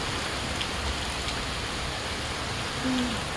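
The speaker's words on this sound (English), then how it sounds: "It's currently pouring down rain." Heavy rain pours down steadily in a back alley in India, a dense, even hiss that stays constant and fairly close throughout.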